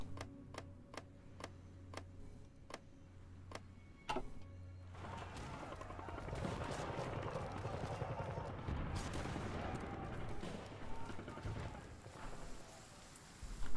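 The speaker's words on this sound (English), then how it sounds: "Why do I hear gunfire?" Gunfire in the strategy video game Hearts of Iron IV, faint and distant: an evenly spaced run of sharp cracks gives way to a denser, rumbling spell of shots, with music or ambience running underneath.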